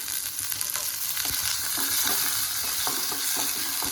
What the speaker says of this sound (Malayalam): വേറൊരു ചീനച്ചട്ടി വെച്ചിരുന്നു അതിലേക്ക് കുറച്ച് വെളിച്ചെണ്ണ ഒഴിച്ചു കൊടുക്കാം ചീനുള്ളി കറിവേപ്പില